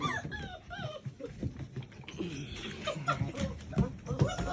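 Six-week-old Sheepadoodle puppies whimper and yip in rapid, high-pitched bursts close by, with a person talking softly underneath.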